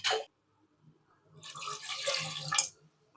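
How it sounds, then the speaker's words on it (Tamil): Water is poured into a pressure cooker sitting on a stove, a short splash followed by a pause and then a longer, steady pour at close range. "குக்கர் அடுப்பில் வச்சு கொஞ்சமாக தண்ணி ஆட் பண்ணிக்கணும்"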